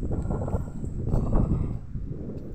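Wind buffets the microphone on a high Mt. Banahaw mountainside, a steady low rumble with gusts swelling and easing over a few seconds.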